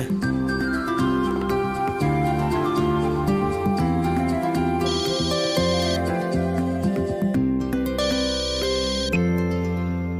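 A telephone ringtone plays a steady, repeating electronic melody for about ten seconds before a call is answered in a Tamil TV serial scene, with brief brighter bursts of tone partway through and no voices over it.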